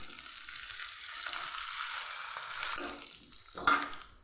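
Cumin, mustard seeds and Byadgi chillies fry in tempering oil, a soft crackling sizzle that rises and fades, ending with a brief sharp clack of a utensil.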